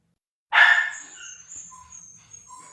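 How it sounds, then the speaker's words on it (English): A dog gives one sharp, loud bark that trails off into quieter whimpering yelps, heard alone indoors. "your dog is calling out to you right now"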